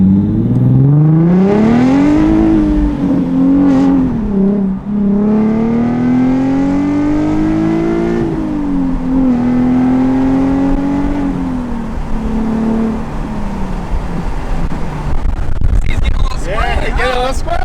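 A Nissan 370Z fitted with a Tomei Expreme Ti titanium exhaust, loud and close as it revs and accelerates through rising and falling engine notes, with a couple of downshifts and a final sharp rev.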